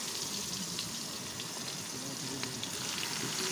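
Onions sizzle in hot ghee in a pan, a steady soft hiss with faint crackles, continuous and fairly quiet throughout.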